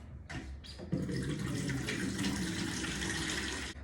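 Water drains out of a daiquiri machine during cleaning, first two short spurts and then a steady rushing gush that runs on close and alone for several seconds.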